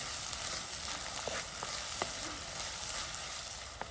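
Chopped onions and slit green chillies fry in oil for egg rice with a soft, constant sizzle and occasional light taps of a spoon, fairly quiet and steady throughout with no speech.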